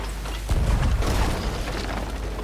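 Ship cannon fire in the pirate game Sea of Thieves, a heavy booming blast partway through followed by a rumbling decay, with no talk over it.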